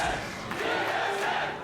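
A packed esports arena crowd at a 2015 North American League of Legends match cheers in a steady, broad roar that holds for the whole moment without a break.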